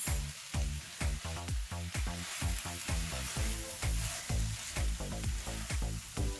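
Onions browning in olive oil with thyme and grapeseed oil, a steady sizzle broken by regular rhythmic stirring scrapes in the pan, close and fairly soft.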